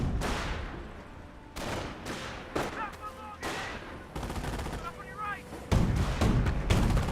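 Rapid rifle and machine-gun bursts from a G43 squad and others in the World War II strategy game Company of Heroes, loud and dense, with repeated sharp cracks and rolling volleys over a busy battle soundscape.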